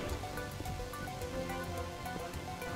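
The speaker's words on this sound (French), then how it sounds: "Il pleut dehors." Rain falls steadily in the Minecraft video game as a continuous hiss of patter blended with soft sustained background tones and faint clicks throughout.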